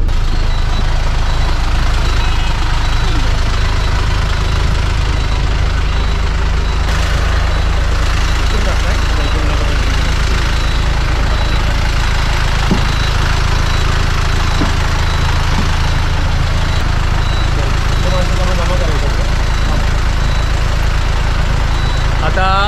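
A car engine running as the car creeps forward on a wet road in the rain, a constant low rumble held throughout, with faint voices and occasional small clicks over it.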